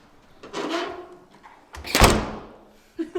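A heavy apartment door swings and then slams shut with one loud, deep thud, preceded by a softer creaking movement, close by and with a small knock at the very end.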